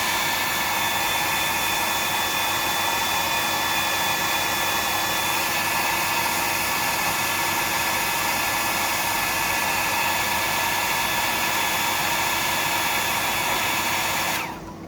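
A hair dryer blows continuously at close range, a steady whining roar with a faint high tone, then cuts off abruptly just before the end.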